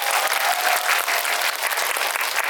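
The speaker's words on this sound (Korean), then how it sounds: "박수 부탁드립니다" Audience applause at a film talk event in a cinema, a brief, dense and steady burst of many hands clapping, loud and continuous throughout.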